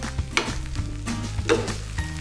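A bubble and squeak mixture of leftover roast-dinner potato cooks slowly in a pan, giving a soft, steady sizzle with occasional light scrapes and taps nearby and no voices.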